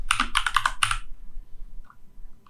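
Quick bursts of keystrokes on a computer keyboard as a short folder name is typed, a dense cluster of clicks in the first second followed by near silence with a couple of faint taps.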